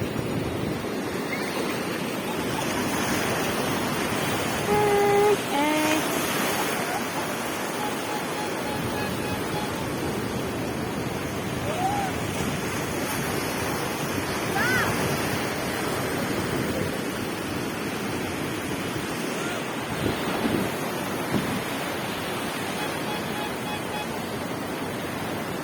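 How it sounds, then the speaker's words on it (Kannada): Sea waves wash onto a beach in a steady broadband roar that rises and falls over the whole stretch, with some faint wind and a few brief distant tones and murmurs in the background. "ಅಲೆ"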